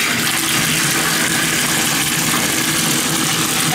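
Tap water gushing steadily into a bathtub with a Lush bubble bar, a loud, continuous rushing roar with no breaks or talking.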